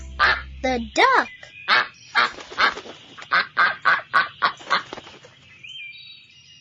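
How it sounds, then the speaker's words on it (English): A farm duck or goose gives a quick series of about a dozen loud, nasal honking quacks in a steady rhythm, close and alone, ending in a faint high tone. "The duck."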